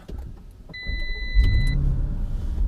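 Audi RSQ8 engine starting, a chime and brief electric whir followed by a deep rumbling catch that settles into a steady, close idle.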